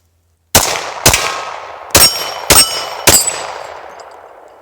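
Five sharp, loud gunshots from a 10mm Glock pistol, fired alone in an uneven rhythm, each with a ringing metallic tail and a lingering decay after the last.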